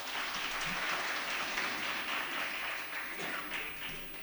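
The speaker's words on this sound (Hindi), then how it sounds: "जोरदार ताली बजाएं।" An audience claps for students at a Christmas celebration at Nav Sadhana Kala Kendra, a sustained, even burst of many hands that holds for several seconds and eases slightly toward the end, with no talking.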